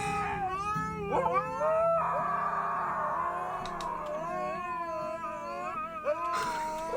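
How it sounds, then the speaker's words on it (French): Several dogs howl together in long, wavering, overlapping wails that rise and fall, loud and close, continuing for several seconds. "d'habitude ça le fait tiquer les hurlements de chien"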